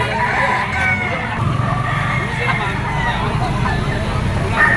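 A gamefowl rooster, a black Sweater with golden boy bloodline at a market in Lipa, Batangas, crows and clucks faintly amid outdoor bustle while someone talks over it.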